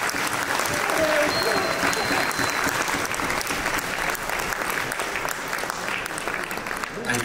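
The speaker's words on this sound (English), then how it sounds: "Can we have one more round of applause for Suhaya Bro, please?" An audience at a speech program in Chicago applauds steadily, a dense sustained clapping that fills the room throughout, with a few faint voices beneath it.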